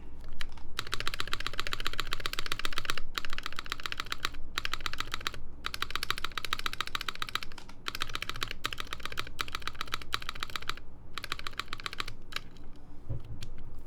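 Typing clatters on a mechanical keyboard fitted with a 1U spacebar, a fast, close run of clicky keystrokes in bursts with brief pauses between them, and no voices.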